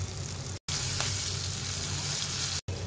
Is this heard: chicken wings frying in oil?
yes